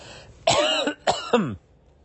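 Two or three harsh, throaty coughs close to the mic, bunched together in quick succession, then quiet.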